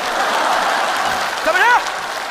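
An audience applauds a stage comedy sketch at the 2022 Liaoning TV Spring Festival Gala, a steady dense clatter of many hands that holds for over a second before a voice cuts in over the fading applause.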